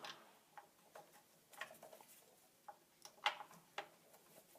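Two screws are tightened to hold a washing machine motor in place during a carbon brush replacement. Faint, crisp little clicks and ticks come at uneven intervals, close and quiet against a low background.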